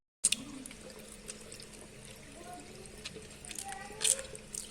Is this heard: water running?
yes